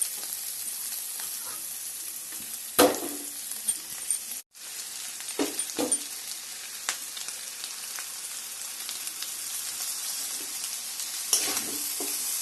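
Chow noodles with egg frying in oil in a pan, giving a steady close sizzle broken by a few scraping stirs of the spatula, with no talking.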